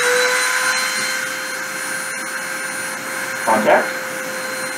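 A machine spindle running at 30,000 RPM during deposition, a loud, steady high whine with a constant tone, and a short spoken word over it.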